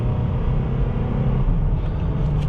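A 2019 Nissan Frontier SV V6 pickup truck accelerates from a stop, a steady low engine rumble heard from inside the cab, continuous and moderately loud without any talk.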